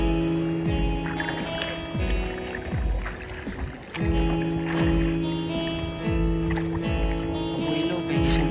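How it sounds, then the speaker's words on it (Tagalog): Water slaps and rushes steadily against the hull of a lateen-sail boat sailing almost upwind, with periodic splashes and a constant low engine-like hum beneath. "here we are sailing almost upwind"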